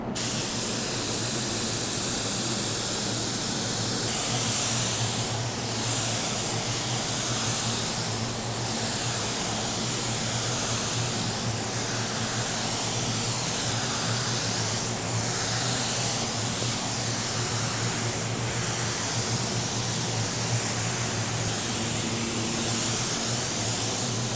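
Pearl white paint sprayed onto a Tesla car: a steady, loud hiss of the spray gun runs throughout, with repeated swelling passes every few seconds and no talking.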